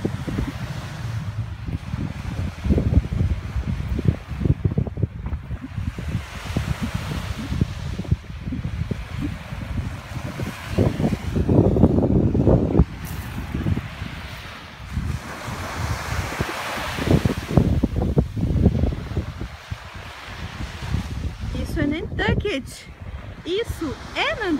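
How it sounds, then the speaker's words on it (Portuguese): Ocean surf and gusting wind on a winter beach on Nantucket island, with waves rolling in and out and wind buffeting the microphone, and a voice talking now and then over it. "Vamos dar um rolê na praia agora. Tá um friozinho, né? Porque é inverno e a gente tá perto do mar."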